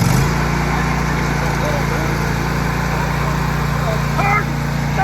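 A John Deere LA145 riding mower's engine runs steadily at close range with a constant droning hum, while a voice talks briefly over it.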